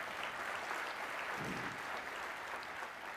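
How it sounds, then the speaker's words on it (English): Steady applause from a crowd at a city State of the City address, a dense even patter of clapping that holds at a moderate level throughout without any talking. "Let's give Steve a round of applause."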